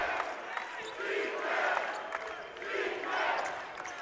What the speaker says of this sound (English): A defense chant here from the crowd in the Don Haskins Center.